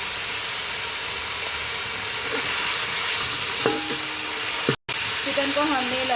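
Chicken frying with garlic in a pan for chicken egg fried rice, a steady broadband sizzle throughout with a few brief clinks of stirring and a short dropout near the end; faint background tones but no clear talk.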